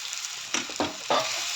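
Oil sizzling and crackling in a pan with cumin, green chilli, tomato and soaked sago, with a few louder bursts of spattering as it is stirred, steady and close.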